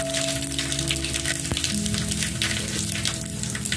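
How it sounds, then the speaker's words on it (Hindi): Mustard seeds and garam masala crackling in hot oil for aloo baingan, a dense continuous sizzle with fine popping throughout, close and fairly loud, over a steady low background hum and no talking. "अब उसमें ये राई के दाने डाल रहे हैं थोड़े से"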